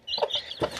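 A mother hen clucks to call her newly hatched chicks on a small farm, giving a few short, close, throaty calls with a thin chirping above them.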